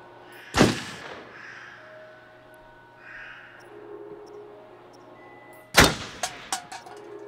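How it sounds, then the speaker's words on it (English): Gunfire in the horror video game Until Dawn: two sharp, loud broadband shots spaced several seconds apart, the second followed by a few quicker smaller cracks, over a quiet low hum. "The shooting in this game is very smooth compared to the quarry"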